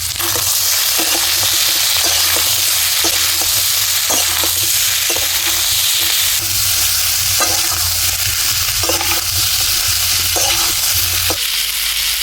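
Kundru (ivy gourd) fries in a pan with turmeric, cumin powder, coriander powder and salt, making a loud continuous close sizzle with regular stirring scrapes throughout.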